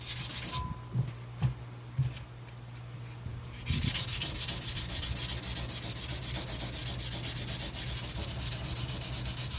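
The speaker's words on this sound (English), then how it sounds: "you use the flat spot of your sander" A block sander working over a firearm's surface, a few light taps at first, then a steady close rasping rub that continues without pause.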